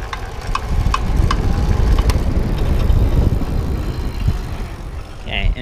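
An Energie Cycles 2.6tm e-bike running on throttle in its hardest seventh gear gives a steady close whirring drone with road and wind rumble, with a short burst of speech near the end.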